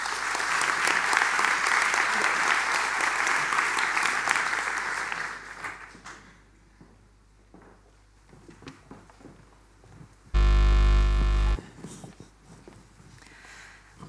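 An audience at a Dutch academic panel on decolonisation gives warm, sustained applause that fades after several seconds into quiet room noise, followed by a brief loud thump.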